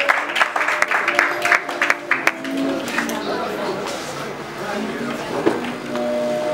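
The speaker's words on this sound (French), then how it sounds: "Mesdames et messieurs, sous vos applaudissements." Audience applause welcoming comedians on stage: scattered sharp claps in the first couple of seconds, then a busier crowd murmur and chatter with some voices over it.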